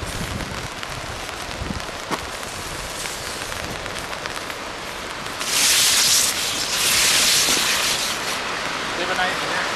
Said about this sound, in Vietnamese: Mưa lại phải không?